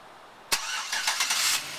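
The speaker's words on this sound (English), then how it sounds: "power starting device. Automatic starter." A 2009 Chevrolet Silverado LTZ pickup fires up by remote starter: a sharp crank catches abruptly and settles into a steady, close running idle.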